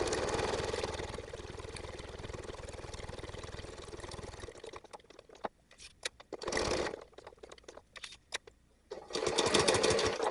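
Sewing machine running in steady stitching bursts while sewing slippery fabric for an embroidered duck key fob, with a long continuous run, then short stops and starts before a final loud burst.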